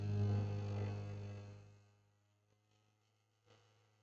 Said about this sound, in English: it sounds good with a bit more on the vortex mixer